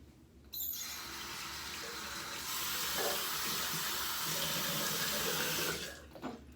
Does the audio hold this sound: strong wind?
no